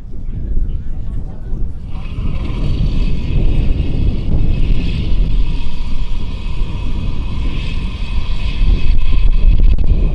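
A six-cylinder Lycoming piston engine on a 1:3 scale Bell 47G RC helicopter cranks and catches into a loud, steady rumbling drone, with a whining tone rising after a couple of seconds and some wind buffeting.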